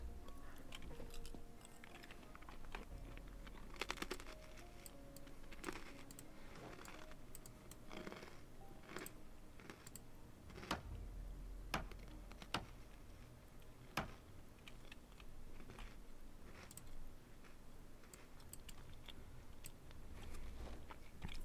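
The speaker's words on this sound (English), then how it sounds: "Sorry if you hear chewing. That is literally just me eating pretzels" Pretzels being eaten close to a microphone while a computer game plays, with faint crunchy chewing clicks scattered irregularly over a low background hum, quiet and without talk.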